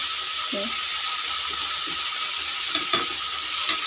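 A spoon stirs rice for khichdi in a cooking pot, giving a soft scraping, sizzling texture with a few sharper clinks near the end, fairly close and steady.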